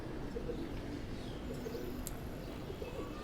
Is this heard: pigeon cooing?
yes